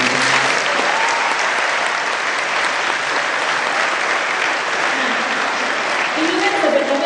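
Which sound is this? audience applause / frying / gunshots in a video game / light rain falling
audience applause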